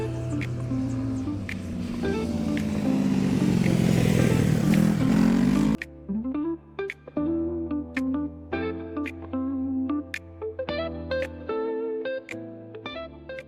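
A Honda Rebel motorcycle is ridden from Benissa toward Calpe, its engine droning steadily with strong wind rush. Partway through, the wind noise drops away and the engine hum continues with shifting revs and gear changes.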